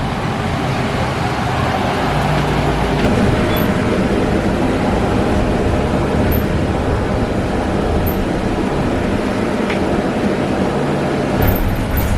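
Putnam County Transit bus arriving at a stop, a loud, steady low engine rumble and road noise close by, continuous throughout with a faint squeak near the end.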